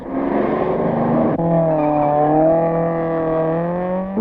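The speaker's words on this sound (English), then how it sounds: "The Ford, car number 5, driven by Barter and Hutchings, gets away to make room for the impressive-looking Porsche of Chenevrier and Sults" A Porsche rally car pulls away at the 1971 Rally de Portugal, its engine loud and close, a steady droning roar that shifts pitch once as it moves off, with no talk over it.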